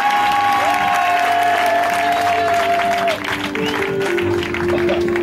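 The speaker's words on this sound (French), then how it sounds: "Est-ce qu'on peut donner acclamation au Saint-Esprit de vérité?" A church congregation claps and cheers in acclamation while sustained tonal sounds, likely singing or an instrument, carry over the crowd noise. The sound is loud and continuous and dips slightly after a few seconds.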